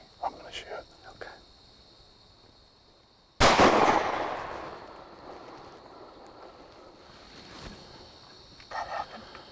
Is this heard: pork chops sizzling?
no